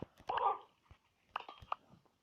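A few sharp barks from two house guard dogs, one loud burst early then several shorter ones spaced apart, fairly close with quiet gaps between.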